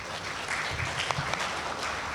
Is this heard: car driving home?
no